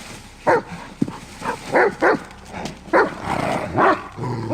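A dog barks in a string of loud, close bursts mixed with yips and whimpers, spread irregularly over several seconds with no talking.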